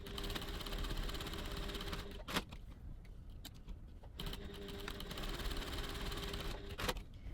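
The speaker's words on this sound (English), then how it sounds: "Okay, so let's stitch our strap tabs." A sewing machine stitches bag strap tabs at 3.1 stitch length, a steady close mechanical whir in two long runs with a short pause between them.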